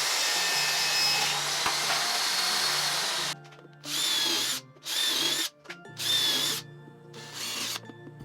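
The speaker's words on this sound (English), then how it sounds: "I just drilled out the pilot holes and then screwed down the plywood into the frame." A power drill bores pilot holes in plywood for a table saw workbench top, with one long whining run followed by four shorter bursts separated by brief pauses, close and loud.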